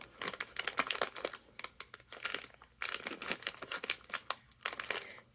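Crinkly plastic packaging around a tiny Godzilla toy crackles and rustles close up in repeated bursts separated by short pauses, crisp and intimate.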